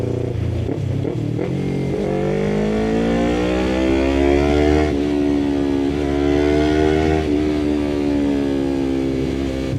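A Yamaha R3 V2 motorcycle engine revs steadily and loudly through rising and falling RPM, a smooth continuous mechanical tone that sweeps up across gears at close range, with no talk.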